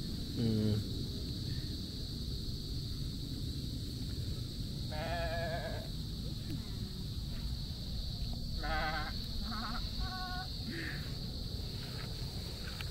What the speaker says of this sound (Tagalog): Mas malaki yung mga kambing ni Nang Learning eh.